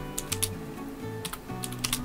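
Typing on a computer keyboard to write a short caption for an Instagram post from a PC, with clusters of quick key clicks in bursts and brief pauses, fairly close and moderately quiet, no talking.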